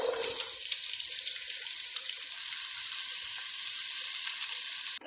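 Onions fry in about two tablespoons of grapeseed oil over medium heat, giving a continuous bright sizzle close by with a few small pops, cutting off abruptly at the end, no talking.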